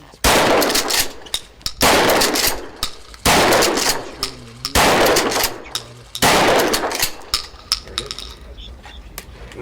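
A police chief fires a series of loud gunshots at close range, sharp blasts in irregular bursts with mechanical clacks and metallic rattles between them, and voices talk in the background.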